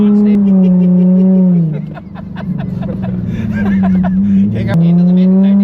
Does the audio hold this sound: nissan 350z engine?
yes